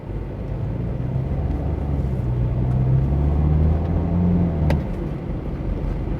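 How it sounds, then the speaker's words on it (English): A BMW F30 320d diesel sedan drives along in a steady low engine rumble with a slowly rising drone from the engine, heard continuously from inside the cabin. "අපි BMW F30 එකේ ටිකක් දුර ගිහලා බලමු."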